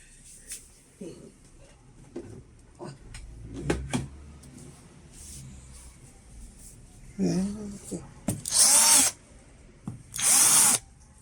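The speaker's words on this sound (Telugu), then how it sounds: "డ్రిల్లర్తో కూడా హార్ట్ టెస్ట్ చేస్తున్నాడు" Scattered clicks and handling noises, then two short, loud bursts of a power drill whirring near the end as it drills into a nano-coated phone in a hardness test.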